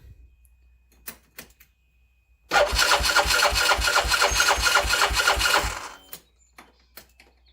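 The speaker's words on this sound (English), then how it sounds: "We have ignition." A 2013 CFMOTO Z6 motorcycle engine cranks and catches after a few clicks, chugging loudly and rhythmically up close for about three seconds before dying away.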